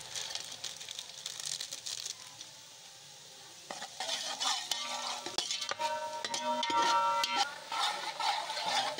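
Onions frying in a pot for chana pulao, a steady crackling sizzle with repeated scraping and clinking from a spoon being stirred through them, fairly close.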